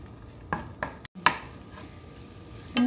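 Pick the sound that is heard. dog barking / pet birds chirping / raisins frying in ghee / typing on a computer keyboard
raisins frying in ghee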